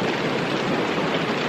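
Rain falls as a steady, loud broadband hiss with no breaks and no voices.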